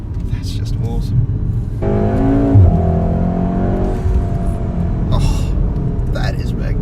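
A 2-litre four-cylinder car engine rumbles and pulls hard under acceleration, close by and loud, with its tone climbing mid-clip. Voices talk over it at the start and end.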